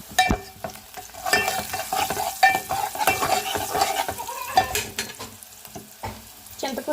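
Oil sizzles in a pan with a spice tempering and turmeric while a spoon stirs and scrapes, with light metallic clinks and irregular bursts of crackling, close up.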